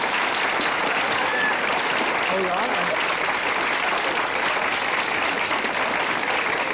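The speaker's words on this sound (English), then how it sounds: "Let's give Tom a round of applause" A studio audience on a Pittsburgh daytime talk show applauds steadily, a dense, even wash of clapping sustained for several seconds.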